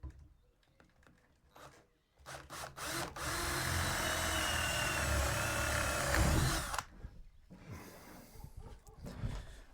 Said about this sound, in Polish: Ustawiamy tu równo z ramą i przykręcamy sobie wkręty.